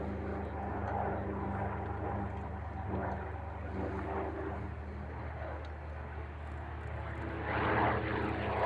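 A Vought Corsair piston-engined WWII fighter makes a final low pass at an airshow at Duxford, its propeller drone steady and loud, swelling slightly toward the end.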